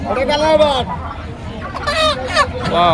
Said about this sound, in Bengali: এটা কি দেশি মোরগ